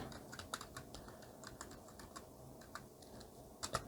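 Computer keyboard keys tapped in a quick, uneven run while renaming a Photoshop layer, close and quiet, with a couple of firmer strokes at the end.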